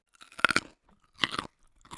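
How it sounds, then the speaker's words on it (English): Crunchy bites into a raw carrot, two distinct bursts of close chewing and crunching separated by a short pause, with a third starting at the end, no talk. "said Carlton, munching on a carrot"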